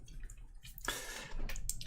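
Water poured into a glass of Deanston 10-year-old Pedro Ximénez cask whisky, a brief close splash and trickle lasting about a second amid quiet room tone, with a couple of faint drips afterward.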